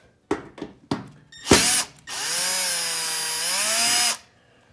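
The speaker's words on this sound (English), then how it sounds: "we're going to see if we can get these screws off now. We're using a 1/4 inch drive." A 1/4 inch drive power tool backs screws out of a gas stove burner assembly: a few short bursts, then a loud, close, steady whir lasting about two seconds before stopping abruptly.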